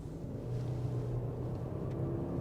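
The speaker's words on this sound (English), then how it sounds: "The engine kind of like revs pretty high" A 2021 Genesis GV80 with the 2.5-litre turbo engine in sport mode gives a steady, low engine drone and rumble heard from inside the cabin, holding an even pitch with no spoken voices.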